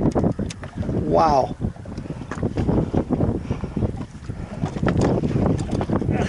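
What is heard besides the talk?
wind on a fishing boat offshore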